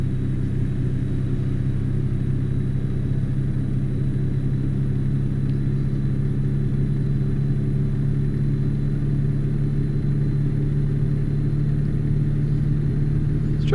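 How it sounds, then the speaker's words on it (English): A simulated truck engine in American Truck Simulator, heard while hauling through Missouri from St. Louis to Maryville, gives a rough, heavy drone with plenty of mid and bass. It holds a steady, continuous rumble throughout, with no talk. "This truck sounds a little rough."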